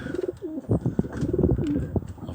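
Pigeons cooing close by inside a loft housing cock birds and hens, repeated throaty coos in quick phrases with some wing and body movement sounds between them.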